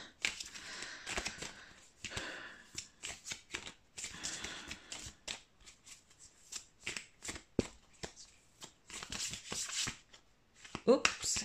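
Tarot cards are shuffled close to the microphone for a pick-a-card reading, making repeated crisp riffling and slapping bursts, with a quiet voice talking between them.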